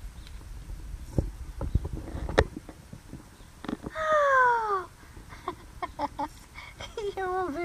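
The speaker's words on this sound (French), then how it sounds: "J'avais entendu un chat miauler." A small kitten gives a drawn-out, falling meow in a quiet indoor spot, followed by a few shorter wavering mews, with faint shuffling and handling noises around it.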